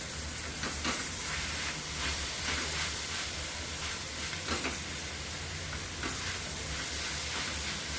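A one-inch piece of ginger and garlic cloves fry in a pan over an onion-tomato masala base for mushroom masala, making a steady, loud, close sizzle with faint stirring scrapes and no talk.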